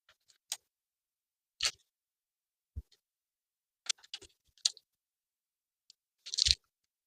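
Scissors snip around a taped homemade sticker design in a handful of quiet, separate crisp cuts, spaced irregularly with silent gaps between them.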